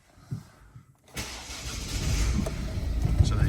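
A 2011 Volvo C30 D2 1.6 diesel started by keyless start: a brief starter crank, then the engine catches and settles into a steady, close diesel idle that slowly builds in level.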